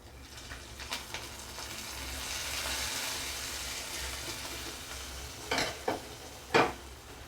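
Ghee-fried grated coconut poured into simmering coconut milk payasam, with a steady low sizzle and scraping stir throughout, then a few sharp splashing crackles near the end as the hot ghee hits the milk.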